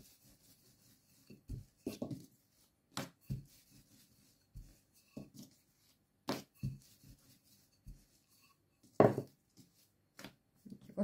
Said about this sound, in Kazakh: Кішкене ұн сеуіп, осы нанымызды кішкене жайып аламыз.